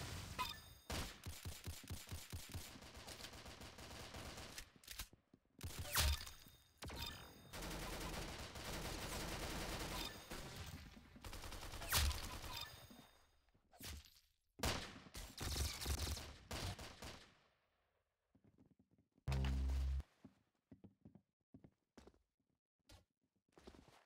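Rapid gunfire from the Roblox game Arsenal on the Tuscan map, loud bursts and volleys that come and go between short quiet gaps, with no talking.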